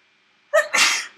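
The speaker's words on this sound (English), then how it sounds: "I'm going to sneeze." A single close, sharp sneeze with a quick inhaled build-up, then silence.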